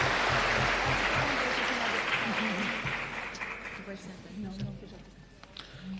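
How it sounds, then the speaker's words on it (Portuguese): Audience clapping to welcome a federal deputy at a solemn session in Brazil's Chamber, dense steady applause that starts loud and slowly thins out, with faint voices underneath. "nós já aproveitamos e recebemos com muito carinho, com a salva de palmas"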